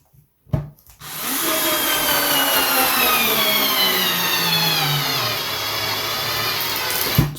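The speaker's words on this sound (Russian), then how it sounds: "Сейчас вот поставлю большой саморез, который" Cordless WORX WX242 screwdriver driving a large 5×45 screw into a dry board, a steady close motor whine that starts after a brief click and runs continuously, the pitch drifting slightly as the screw sinks in, with a sharp crack near the end.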